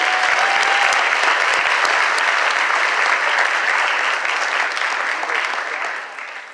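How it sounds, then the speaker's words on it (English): Loud, dense applause from a summit audience for sponsor KPMG fills the space, a continuous roar of many hands that tapers off slightly toward the end. "Please, another round of applause for KPMG."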